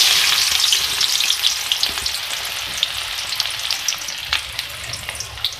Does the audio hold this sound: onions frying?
yes